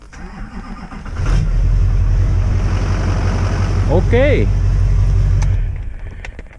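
A Duramax diesel engine swapped into a bus, started off a jump box and battery, cranks and catches near the mic, then idles with a loud, steady low rumble; a brief voice and a squeaky sound come in partway through.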